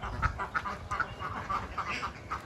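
Ducks on an Indonesian duck farm quack in a steady series of short, nasal calls, repeating roughly every half second at moderate distance over a low background rumble.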